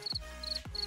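Crickets chirp in short, high, evenly spaced pulses, three bursts in under a second, fairly clear against a low background with a couple of dull thumps.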